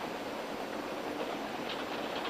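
Steady train noise on the rails, a continuous broad rumble and rattle of a moving railroad car heard from inside, even and unbroken throughout with a brief brighter hiss near the end.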